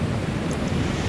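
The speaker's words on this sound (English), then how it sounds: "it's just been so nice just to be out here on the beach, listening to the waves" Ocean waves wash steadily onto a beach at Covehithe in Suffolk, a loud, continuous broadband roar of surf mixed with wind buffeting the microphone, with no voices.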